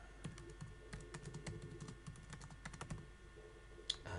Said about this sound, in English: So I'll type in a title,